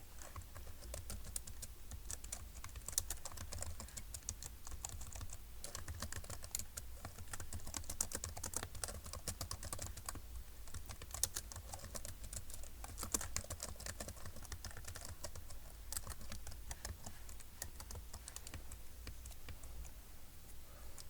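Steady, continuous typing of HTML code on a computer keyboard, dense rapid key clicks running throughout at an even level with no pauses or talk.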